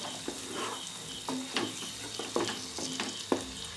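Chicken fries in a pan for chicken do pyaza, with a steady soft sizzle under repeated scraping and knocking strokes from a stirring spatula, heard up close with no talking.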